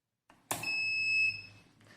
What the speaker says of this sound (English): you can hear the beep sound of the device as it is indicating the user